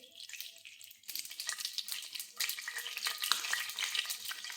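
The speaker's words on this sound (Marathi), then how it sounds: "वरणासाठी लागेल तेवढं तेल घ्यायचं आपल्याला मोहरी जिरे" Mustard seeds and cumin hit hot oil, with a faint hiss that bursts into dense, crackling sizzle about a second in and keeps spitting and popping close by.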